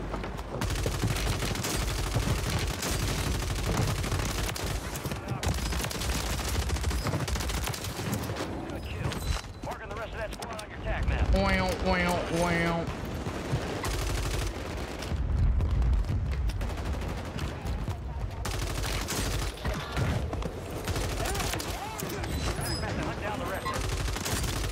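Rapid bursts of AMR9 SMG fire in the Warzone video game, dense and loud throughout, mixed with other gunfire and game noise while a voice talks over it.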